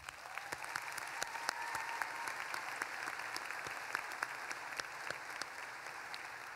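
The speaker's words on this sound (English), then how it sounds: "So let's give them all a round of applause." Audience applause at an undergraduate commencement ceremony, steady sustained clapping from a large crowd heard at a distance, fairly faint and even throughout.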